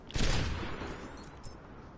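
Gunfire from a sniper-type hero in the video game Overwatch, a sharp loud burst of shots near the start that decays into a rumbling wash, with a smaller crack about halfway through.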